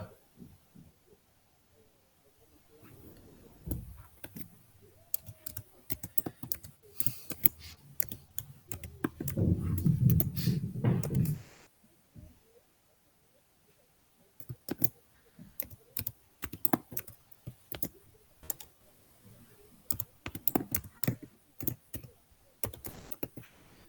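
Computer keyboard typing as a password is entered during an SCCM client push account setup, a long run of quick, irregular key clicks with pauses between bursts and a louder muffled stretch midway, close and without talk.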